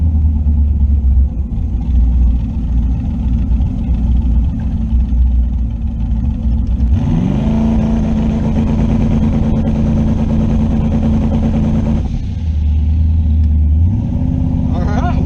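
A turbocharged car's engine rumbles at a steady idle, then revs and holds high under load during a launch with a JEGS XHD torque converter, tires spinning, before dropping back to idle, loud and close.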